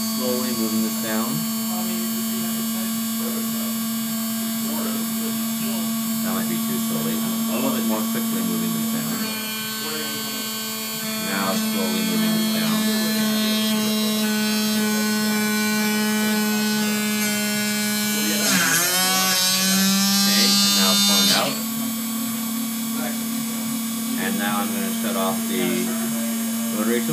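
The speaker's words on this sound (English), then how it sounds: "I'm turning on the extruder, the rotary tool." A ShapeOko CNC machine's rotary tool whines at a steady pitch while milling a pocket, with a strong electrical hum beneath it. Partway through, the tone shifts and rises as the bit sinks in, then settles again.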